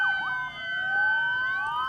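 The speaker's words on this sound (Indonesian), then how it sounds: "bunyikan sirine sebagai tanda peringatan Hari Kesiapsiagaan Bencana tahun 2021" Warning siren sounded at a traffic-light intersection on Jalan Muhammad Yamin, Padang Panjang, for Disaster Preparedness Day, a steady wailing tone with rising and falling sweeps, loud and continuous throughout.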